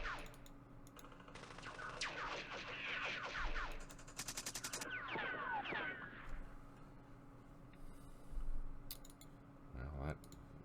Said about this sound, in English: Bring our half-tracks over here. Lace them with machine gun fire.